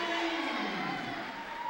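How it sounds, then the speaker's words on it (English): Fans in the stands at a women's college basketball game applaud a player, a brief wash of crowd cheering and clapping from across the arena. "Her fans in the stands give her applause."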